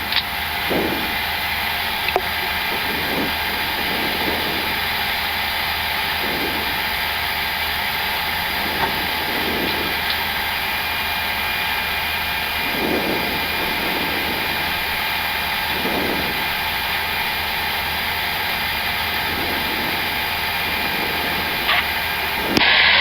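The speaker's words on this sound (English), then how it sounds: "Starting engine 1." Engine 1 of an Airbus A330-900 spools up, heard from inside the cockpit as a steady broadband roar and whine, with faint periodic pulses and hum throughout and no talk.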